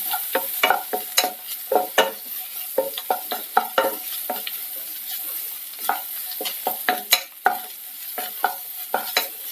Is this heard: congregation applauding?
no